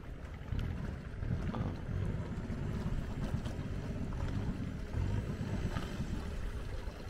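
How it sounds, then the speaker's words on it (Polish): Long-tail boat pulling away from a jetty in Thailand, a steady low engine rumble with wind buffeting the microphone, continuous and fairly close. "Long tail to właśnie taka długa łódka. Długim okonem z tyłu."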